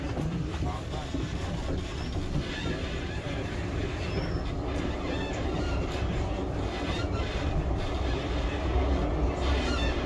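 Steady rumbling and clattering of a Blackpool promenade tram rolling along rails, with wheel noise and occasional squeals throughout, loud and continuous.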